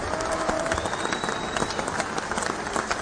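Studio audience applause on a Hindi news discussion show, dense continuous clapping from a group, fairly loud and even, with a faint tone running beneath it.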